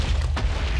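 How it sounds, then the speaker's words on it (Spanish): Explosions in a modded video game: a continuous low booming rumble with a sharper burst near the middle, loud and unbroken, with no talking. "¿ustedes escuchan las explosiones o soy yo nada más?"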